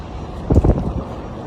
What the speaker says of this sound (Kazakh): Жел болып тұр